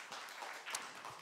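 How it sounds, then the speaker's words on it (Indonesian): A church congregation at a Sunday worship service claps together, a brief, steady wash of applause at moderate distance with no voices over it. "Yang setuju kasih tepuk tangan buat Allah kita."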